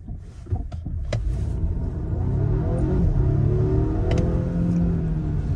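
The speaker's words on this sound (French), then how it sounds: "on va accélérer, on va faire un 0 à 100" A Volvo XC60 Polestar hybrid SUV, 455 hp with Öhlins suspension, pulls away hard from a standstill. A few clicks come first, then a rising engine and motor hum sweeps upward and grows louder in the cabin.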